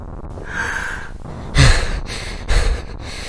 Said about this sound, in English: The breathing is so loud.